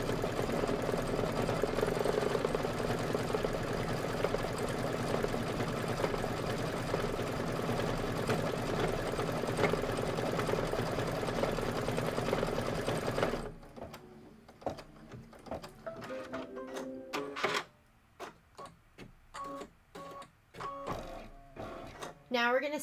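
Embroidery machine running outline stitching, a dense continuous mechanical hum and rattle for about thirteen seconds, then stopping as someone speaks over faint handling sounds.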